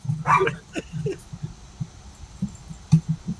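A small dog gives a few short yips and barks up close, interspersed with quieter snuffling noises.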